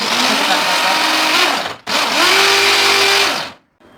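Food processor whirring as it chops onions and garlic, two loud sustained bursts with a short pause between, the motor pitch rising and settling, then stopping near the end.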